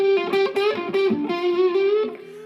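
Electric guitar played through an Analog Man King of Tone overdrive on one channel into a clean amp, a singing, mildly driven phrase of sustained notes and bends, loud and close with no voice.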